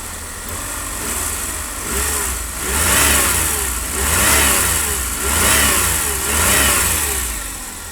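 A car engine revs repeatedly from idle while a multimeter tests sensors, rising and falling in four or five smooth, loud surges close by, with no talk.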